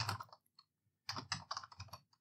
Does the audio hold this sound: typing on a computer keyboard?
yes